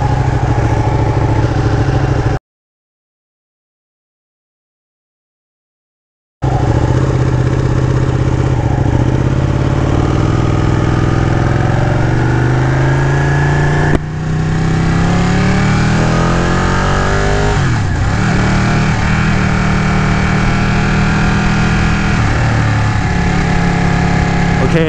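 Ducati 959 Panigale sport bike engine, 2018 model, running steadily throughout with rising and falling revs as it pulls away and shifts, loud and close, broken by a few seconds of silence near the start.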